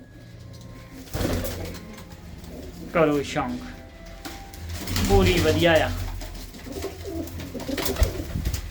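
Pigeons, including a female pigeon being paired with a male, coo in soft, throaty bursts nearby while people talk over and between the calls.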